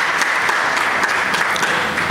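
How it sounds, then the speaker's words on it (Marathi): Audience applause fills the room at a talk, a dense, steady wash of many hands clapping together, loud and close, with no speech over it. "त्यांच्याकरता टाळ्या वाजवा"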